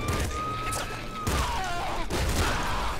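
Dense gunfire from the top-down shooter Nuclear Throne, a steady rattle of game shots with a few sharper hits, continuous over the whole clip and mixed with other game effects.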